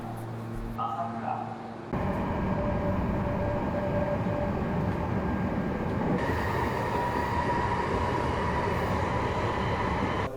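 Riding aboard a Meitetsu train bound for Gifu, a steady rumbling interior roar of wheels and running gear that holds loud and constant after a brief quieter start, with faint voices beneath.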